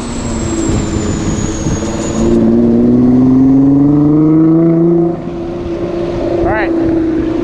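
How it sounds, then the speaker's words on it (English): A Nissan GTR speeds down a winding canyon road, its engine drone rising and falling in pitch through the gears amid strong wind rush, with a brief pass of another sound near the end. "Me versus the GTR down the canyon."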